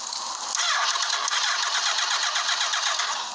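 A motorcycle engine cranks but never catches, its starter churning in one continuous, rapid, whirring drone for a few seconds, close and fairly loud, with no voices.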